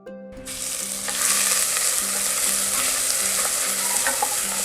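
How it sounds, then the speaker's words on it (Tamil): Crushed ginger, garlic and green chili frying in oil in a pan, a steady loud sizzle with a few light stirring scrapes, close up and with no talking. "இஞ்சி பூண்டு நல்லா வறுபட்டுருச்சு."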